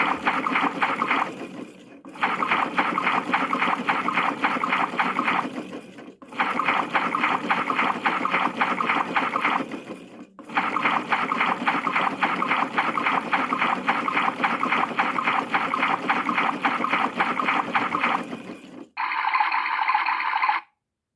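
A PlayGo toy washing machine runs its wash cycle with a loud, steady electronic whirring and sloshing sound, broken by a few short gaps and ending on a brief different tone.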